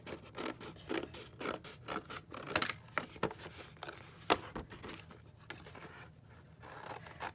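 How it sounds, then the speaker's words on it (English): Cardboard flaps being cut off packaging at a cluttered desk, a run of quiet, irregular scissor snips and scratchy scrapes with small rustles between cuts, close by and with no talking. "let's cut these flaps off"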